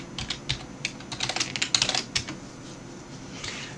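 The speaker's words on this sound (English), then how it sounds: "Now you type in your password." A computer keyboard is tapped in a quick, uneven run of light clicks as a password is typed, close up and alone before falling quiet.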